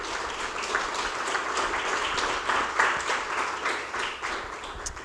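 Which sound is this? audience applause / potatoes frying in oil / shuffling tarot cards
audience applause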